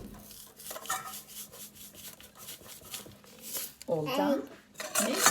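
A small child stirs pancake and crepe batter in a bowl, giving soft rubbing, scraping strokes that repeat through the clip while an adult talks nearby.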